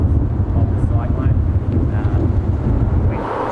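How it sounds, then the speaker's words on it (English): A strong wind gust from a squally shower in an early rain band of a cyclone, a steady loud rumbling roar buffeting the microphone throughout, close and continuous. "We can see now we're getting a fairly good gust with this fairly squally shower that's coming in as one of the early rain bands of the cyclone."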